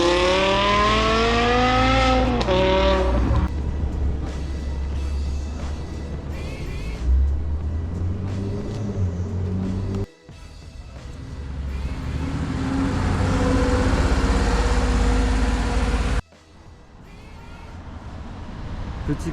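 A Silverstone grey BMW M5 E60 with a V10 engine at a car meet revs loudly, climbing and holding a rising roar that cuts off abruptly and then swells again, close by.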